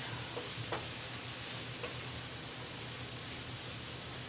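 Carrots and onion sautéing in olive oil in a pan on medium-low heat, a quiet, even hiss of sizzling with a couple of faint stirring clicks early on.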